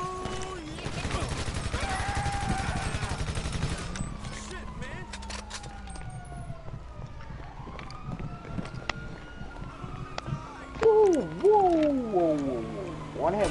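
Gunfire in Grand Theft Auto V, with bursts of shots early on, then a police siren wailing and rising over the scene, while players talk intermittently.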